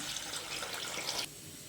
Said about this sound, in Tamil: இப்போ வந்து நம்ம புளி தண்ணி சேர்த்துக்கலாம்.